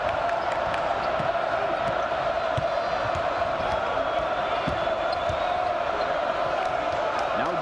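Basketball arena crowd noise at a Marquette vs. Wisconsin college game, a steady, continuous murmur and roar filling the space under the play, with faint scattered thumps from the court.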